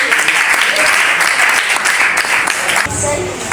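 A church congregation at a Sunday service applauding to acclaim the Lord, with dense, sustained, roomy clapping that holds steady before thinning near the end, loud and close.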